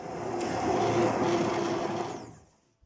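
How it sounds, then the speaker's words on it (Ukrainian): A handheld immersion blender whirs steadily for about two seconds, a muffled motor churning zucchini cream soup in a pot, then winds down and stops. "І блендером перебиваю суп."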